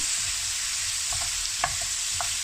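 Chopped baby potatoes cook in butter in a pan, with a loud, even hiss of frying and a few clinks and scrapes of stirring, no speech.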